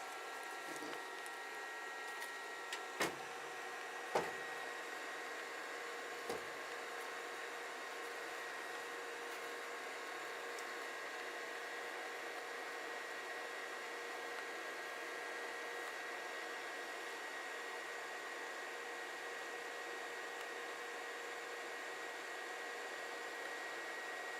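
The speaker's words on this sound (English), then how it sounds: "looks like a good print so far as I can tell" A 3D printer prints a part with a quiet, steady mechanical hum and faint tonal whir, with a few soft clicks early on and otherwise unchanging.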